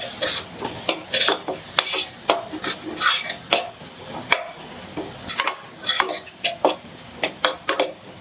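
Thinly sliced ingredient frying in a pan for curried goat, a bright sizzle broken by repeated scraping and clinking of a utensil against the pan in irregular bursts, close and fairly loud.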